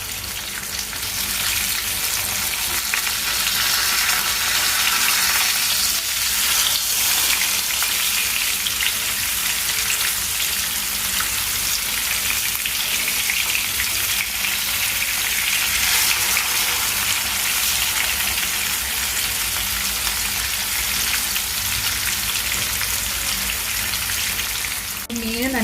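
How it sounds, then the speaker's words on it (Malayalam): Masala-coated fish frying in a pan for Kerala meen pollichathu, a loud, dense, steady sizzle running unbroken throughout with no talk over it. "മീൻ നല്ലപോലെ ഫ്രൈ ആയി വന്നിട്ടുണ്ട്"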